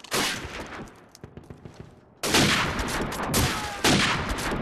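Desert Eagle pistol gunfire in a video game, several sharp loud shots cracking in quick bursts with a quieter patch of scattered clicks and rattles between them.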